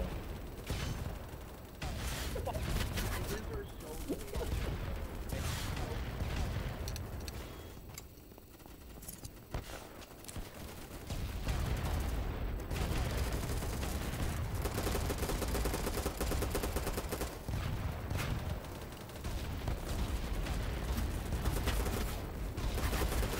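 Gunfire rattles through a match of the video game Battle Bit Remastered, dense overlapping shots and bursts over busy battlefield noise, nearly continuous with a short lull midway.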